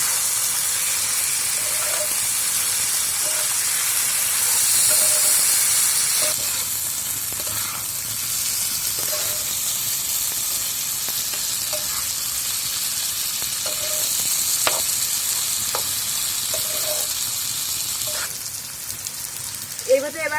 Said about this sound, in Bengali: পেঁয়াজগুলোকে হালকা করে ভাজা হয়ে গেছে, এবার এর ভেতরে চিকেনগুলো দিয়ে দেব।